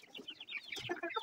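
Chickens cluck softly and busily close by, a quick run of short, chattering calls with no talking.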